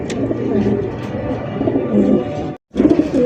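A pair of choco grizzle racer pigeons coo continuously and fairly close, in a dense, steady stream that breaks off for a moment before resuming.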